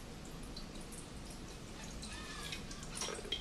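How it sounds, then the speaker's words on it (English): A pH electrode rinsed with distilled water in a lab, faint light dripping and trickling with a few small splashes, quiet and close, growing a little busier toward the end. "Rinse with distilled water."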